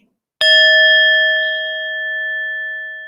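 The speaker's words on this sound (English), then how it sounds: "I'll hit that gong again" A gong struck once with a sharp attack, then a long sustained metallic ring that slowly fades, loud and alone.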